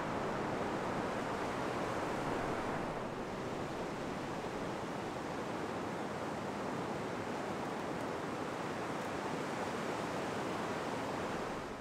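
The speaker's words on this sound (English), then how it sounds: "each creating diagonal patterns leading out to the waves breaking in the distance" Waves break steadily on a beach lined with stones and sand under a setting full moon, a continuous broad wash of surf with a faint wind hiss and no voices.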